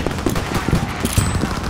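Rapid overlapping gunfire in a World War II video game battle, a dense, loud burst of shots crackling continuously with no pause.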